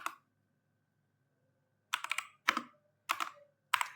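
Close, quiet computer keyboard typing during a programming lab session: a single keystroke, then a pause, then four short bursts of rapid clacking keys.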